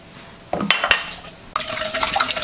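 Spoon stirring a lemon dessert mixture with eggs and pasteurised milk in a bowl, giving close scraping and clinking strokes in two short bursts, with no talking.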